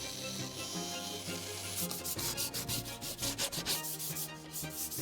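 Sandpaper rubs along the edge of an old wooden table being restored, with quick rhythmic back-and-forth strokes starting partway in over steady background music.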